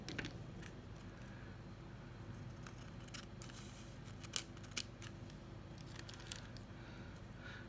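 Scissors trim the excess from a sheet of folded paper, giving quiet, close snipping strokes over a soft steady background, with a couple of sharper clicks near the middle.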